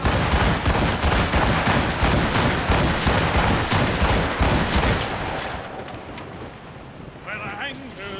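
Volley of ship cannons firing from a sailing warship in Assassin's Creed Rogue, a dense rapid barrage of booms over wind and surging waves, fading out into ocean noise with a voice shouting near the end.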